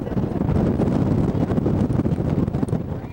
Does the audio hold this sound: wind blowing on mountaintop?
yes